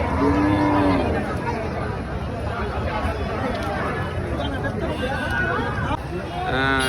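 Large cattle at a busy rural cattle market moo in long, low calls, one near the start and another at the end, over a constant babble of crowd chatter and talk close by.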